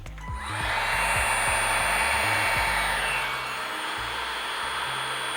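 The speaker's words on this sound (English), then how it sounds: "we're gonna have to warm it up with our heat gun or hair dryer" A heat gun or hair dryer blows steadily close by while warming an adhesive wrap on a Red Komodo camera, a loud continuous whooshing hiss that starts abruptly and holds, easing slightly toward the end.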